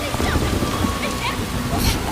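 Steady rain falls in a continuous broadband hiss, mixed with a bit of background activity and faint voice-like sounds, moderately loud throughout with no clear pauses.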